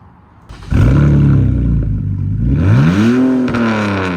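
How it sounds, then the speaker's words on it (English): A BMW 2.5RS engine, abandoned for 20 years, cranks and catches on its first start, then roars into a loud steady idle and revs upward, close by. "Let's start the BMW up"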